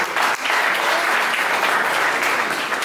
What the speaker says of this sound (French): Alors, sur vos acclamations, s'il vous plaît.